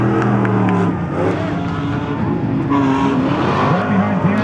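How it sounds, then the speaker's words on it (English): Race cars roaring down the front straightaway of an oval track during the Bee Hive 1450 classic, a dense, loud engine drone with shifting pitch as cars pass, and an announcer talking throughout. "Our leader's coming down the front straightaway right now."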